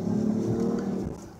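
A 2019 Dodge Charger GT with a Pentastar 3.6 V6 revs and downshifts through its paddle-shifted gears, a loud, close engine roar that swells and then dips sharply near the end.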